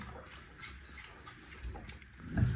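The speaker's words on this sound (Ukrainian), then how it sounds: "Реально, свинки є, а Васьки немає" Pigs in a farm pen grunt and snuffle faintly at close range, with a louder low grunt near the end over soft background rustling.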